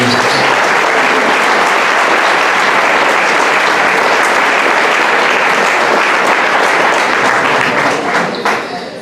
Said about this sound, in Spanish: Den un fuerte aplauso al Señor de Dios.